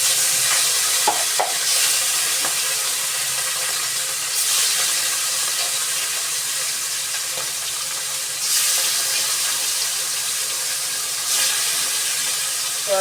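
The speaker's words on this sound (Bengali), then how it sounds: "তেল গরম হয়ে গেছে, এখন আমি দিয়ে দিব মাছ" Rohu fish sizzles in hot oil in a wok, a steady bright frying hiss with occasional louder bursts of spattering and a few soft clinks.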